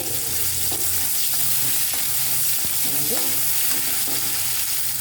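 Small onions crackle and sizzle in about two tablespoons of oil in a pan, a steady, close, busy frying hiss that runs the whole time, with stirring scrapes and occasional clinks on top.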